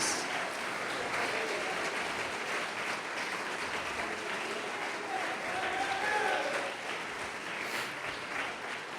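A church congregation at a Portuguese-language worship service applauds steadily, a soft, continuous patter of many hands heard at a distance with no voices on top.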